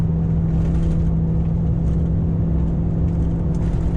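A car powered by a Toyota 1UZ VVTi V8 engine drives along at steady cruise, its low, constant engine drone and road rumble continuous and close throughout, with no voices.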